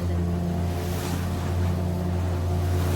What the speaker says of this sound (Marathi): ते बघा, ते बघा, फुल लाटांवरती आमची बोट चालली आहे.